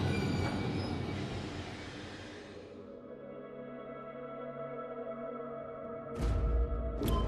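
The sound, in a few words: train stopping in the video game Post Trauma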